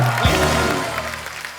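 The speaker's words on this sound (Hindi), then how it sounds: "एक बार रेमो सर, जैकी और टाइगर के लिए जोरदार तालियां" Studio audience applause on a Hindi TV comedy talk show, a dense, steady wash of clapping mixed with sustained musical tones, filling the whole stretch at an even level.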